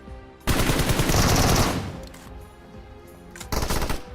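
Gunfire in the battle royale game PUBG Mobile on the Livik map: a long, dense burst of automatic fire, then a quieter stretch and a second short burst near the end, loud and with no talk over it.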